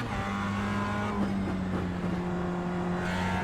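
A race car engine hums steadily under light throttle in the iRacing simulator, a continuous droning tone with slight pitch shifts, close and even, with other cars faintly audible around it.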